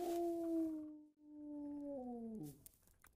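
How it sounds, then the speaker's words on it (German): A dog howls in Kingdom Come: Deliverance, one long mournful wavering howl that holds steady, then bends downward at the end and fades, with a brief second note. "Dieser Köter."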